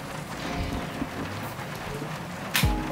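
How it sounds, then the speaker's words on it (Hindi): Heavy early-morning rain falling outside, a dense continuous hiss of drops spattering on surfaces, with a brief louder knock near the end and no one speaking. "बारिश सच में बहुत तेज हो रही है गुरु।"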